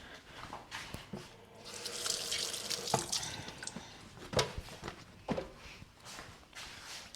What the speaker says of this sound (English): Let's just give it a wash.